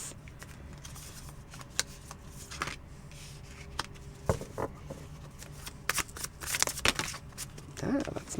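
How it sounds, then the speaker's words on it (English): A new, stiff deck of tarot cards is shuffled by hand close up, giving quiet, irregular riffles and slaps with scattered sharp snaps, louder toward the end. "That's my shuffling."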